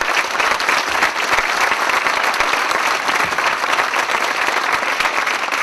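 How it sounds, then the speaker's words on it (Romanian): Audience applause at a charity show, dense steady clapping from a large crowd filling the hall, loud and sustained throughout without pauses. "Aplauze pentru dumneavoastră și pentru micuțul din Călăraș."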